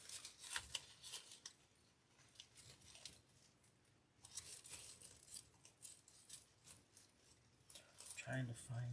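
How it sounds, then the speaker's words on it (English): Scissors snip artificial flower stems while building a yellow and purple floral grapevine wreath, giving soft, scattered cutting and rustling sounds close by, with bursts of handling noise. "But sometimes I do have to cut up my stems"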